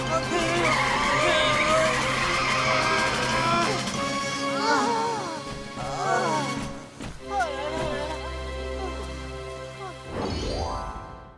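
A cartoon car skids on a wet road with long, loud tire squeals and sliding screeches, while character voices talk and cry out over the skidding throughout.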